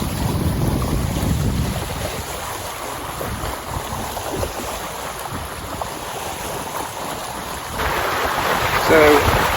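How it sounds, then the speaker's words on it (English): Sea wash and gusting wind sweep over the foredeck of a sailboat cruising off the Greek coast, a steady close rush with wind buffeting the microphone and a louder gust near the end. "listening to the sound of the sea"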